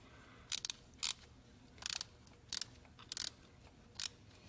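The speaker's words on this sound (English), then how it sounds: "Graduated to the ratcheting wrench because it's just easier." A ratcheting wrench clicks in about six short, close bursts with pauses between them, while the water pump is replaced on a GM 3800 Series II engine in a 1996–1999 Buick LeSabre.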